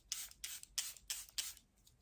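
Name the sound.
Charlotte Tilbury Airbrush Flawless setting spray being sprayed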